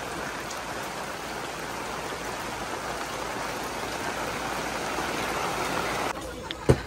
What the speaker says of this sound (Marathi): पाऊस पडतोय म्हणून आम्ही आता इथं थांबलोय.